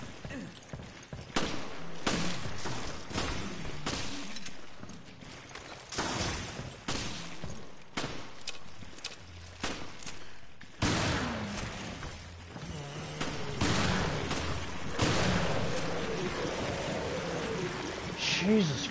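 Rapid enemy gunfire in the survival-horror game Resident Evil Revelations, dense bursts of shots, some close and loud, others more distant, continuing across the stretch with a player's voice breaking in at times.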